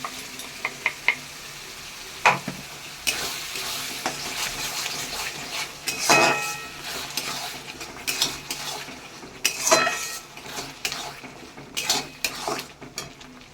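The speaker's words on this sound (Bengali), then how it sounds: "এদিকে দেখুন মশলাটা কষিয়ে দিয়েছি। এবার আমি এর মধ্যে দুটো টমেটো বাটা দিয়ে দিচ্ছি।" Spice paste fries with ground tomato added for a goat meat curry, a steady low sizzle under repeated scraping and clinking of a spoon against the pan, close and moderately loud.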